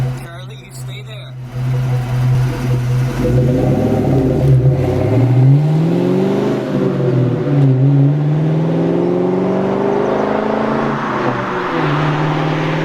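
A Ford Mustang Cobra with Flowmaster 40 Series exhaust revs at about one-third throttle, a loud, close engine note rising and falling over several seconds, with a voice heard briefly near the start.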